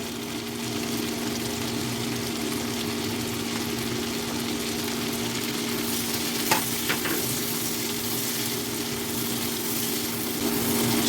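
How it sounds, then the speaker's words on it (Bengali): Vegetables with capsicum and onion plus shrimp stir-fry in a pan, giving a steady close sizzle with a constant low hum and a few brief scraping stirs of the utensil late on; no speech. "সবজি দিয়ে আমি চিংড়ি মাছ দিয়ে একটু ভাজি করে নিলাম"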